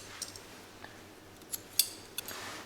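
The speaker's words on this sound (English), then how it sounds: "then I'll cut this yarn" Scissors cut crochet yarn in several short, faint snips spread out over a quiet room, with no talk.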